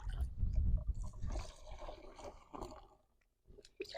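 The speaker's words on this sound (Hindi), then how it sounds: "मैं जो है अब इसमें पानी डाल रहा हूँ" Water poured from close by into a farm pesticide sprayer mix, a gurgling, sloshing splash that is heaviest at first, then thins into smaller splashes and brief pauses.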